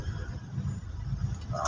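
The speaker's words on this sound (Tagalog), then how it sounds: "Traffic." Steady low rumble of car traffic on a street in San Carlos City, Pangasinan, moderately close, with idling and passing engines.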